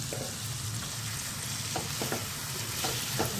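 Steady sizzling of frying masala as boiled cauliflower is tipped in for a cauliflower-potato dish, with a few scraping stirs and light clatters.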